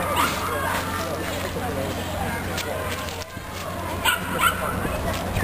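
Rescue dogs bark during a working-dog demonstration, with scattered barks and yips rising over a steady crowd babble and nearby talk.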